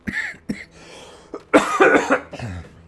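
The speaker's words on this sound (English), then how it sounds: "All this talking's got me coughing." A streamer coughs several times in short, separate bursts, with a sharp first cough, a quick second, and a heavier cluster of coughs near the end.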